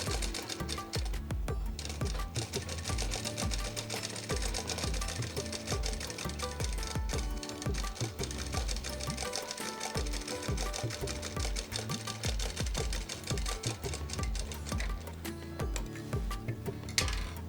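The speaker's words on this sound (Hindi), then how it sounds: "इस पट्टी को सिलाई कर दूँगी अभी" A sewing machine stitches a waistband strip with a steady, rapid mechanical ticking and whirring that runs continuously at close range.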